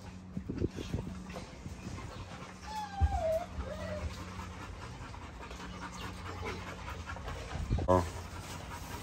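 A puppy pants steadily and close while eating, with faint clinks and shuffles and a person speaking now and then over it.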